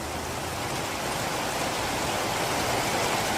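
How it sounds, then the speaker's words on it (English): Heavy rain pours steadily outdoors on a wet, humid day, a dense, even hiss of drops on surfaces with no break or other sound. "Wow, hear the rain?"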